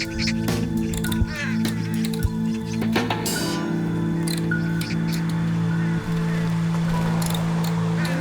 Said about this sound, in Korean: 까치 한 마리의 공격에 까마귀 여러 마리가 혼비백산한다.